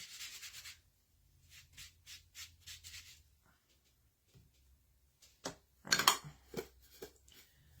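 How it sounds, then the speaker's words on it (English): Wax being rubbed onto painted furniture by hand, a series of short, soft swishing strokes in quick rhythm, quiet and close, with a louder scrubbing burst near the end. "I'm going to use wax one more time"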